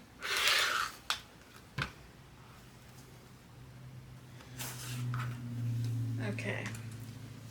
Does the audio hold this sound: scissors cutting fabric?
yes